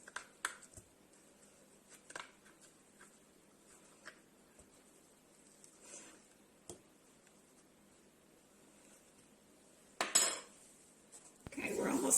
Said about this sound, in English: just spoon out the inside